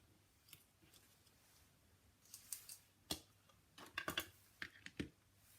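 Scissors snip metallic pieces for a fishing tackle box craft, a series of close, crisp cuts that pick up in the second half, faint and without talk.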